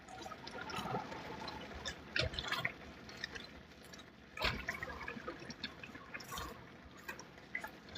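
A spoon stirs pasta sauce in a pot, giving soft wet sloshing and scraping with a few louder clinks against the pot over low kitchen background noise; nobody speaks.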